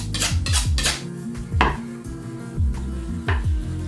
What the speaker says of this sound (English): I'm going to trim that off and then slice it.